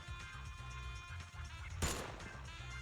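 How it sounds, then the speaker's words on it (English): A single sharp gunshot bursts out in the video game Zenless Zone Zero, loud and brief, over continuous thumping background music. "The sound of gunfire rings out."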